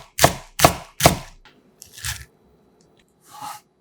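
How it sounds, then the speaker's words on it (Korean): Three sharp, crisp chops ring out in quick succession as a knife cuts through four whole garlic cloves on a board, followed by quieter scraping and a fainter chop, close and with no talking. "기분 좋게 톡 쏘는 통마늘 4개는 살짝 굵게 다져서 넣고"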